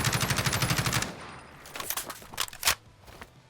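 Kilo 141 rifle regular reload in a Fallout 4 mod: a rapid burst of automatic fire opens, then a sequence of close mechanical clicks and clacks as the magazine is swapped and the weapon readied.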